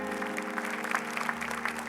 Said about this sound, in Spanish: Denle un saludo a Sandra, un aplauso de bendición.